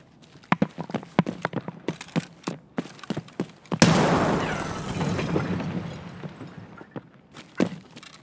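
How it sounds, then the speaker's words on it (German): A grenade goes off in Escape from Tarkov, a single broadband blast that swells suddenly and then rumbles on for several seconds, following a run of sharp, evenly spaced footstep-like clicks. "Wirft eine Granate."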